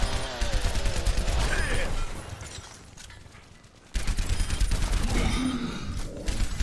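Gunfire in Overwatch during the Junkenstein's Revenge event, rapid bursts of shots that fade to a lull midway, then resume loudly with a shouted in-game voice line and mechanical clatter.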